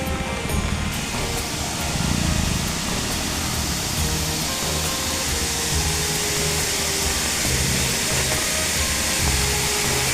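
Water rushes down from the dam at Narayan Dharo near Girnar in Junagadh, a steady, loud, broadband roar that holds unbroken from start to finish with no voices over it.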